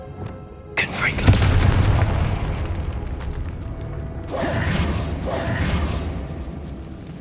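A Confringo fire spell goes off in a decaying Hogwarts Legacy catacomb: a sudden whooshing blast, then a rumbling boom, followed by a second surge of crackling, rushing energy, loud and close over a dark ambient bed.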